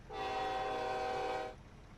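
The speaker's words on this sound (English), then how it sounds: "we still have the cool freight train horn" A loud, sustained multi-tone freight train horn in the video game SnowRunner blares for over a second, then cuts off, leaving a low rumbling background.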